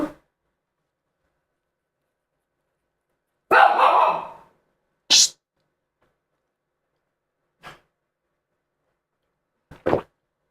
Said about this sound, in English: Sorry about my guard dog.